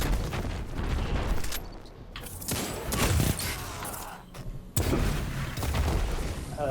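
Fusion rifle fire during a Destiny match: dense, crackling energy bursts and booming discharges follow each other almost continuously, loud and close, with brief gaps between volleys.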